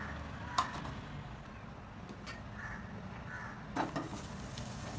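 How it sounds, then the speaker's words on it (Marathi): Onion frying in oil in a pan on a gas stove, a soft continuous sizzle with a couple of stirring scrapes and clinks, close but faint. "कांदा चांगला फ्राय करून घ्यायचा"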